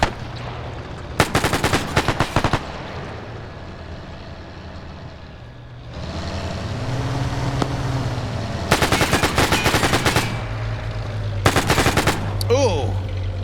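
Machine-gun fire in a WW2 video game rattles in several sharp, rapid bursts between stretches of engine rumble from a vehicle, loud and close, with faint voices in the background.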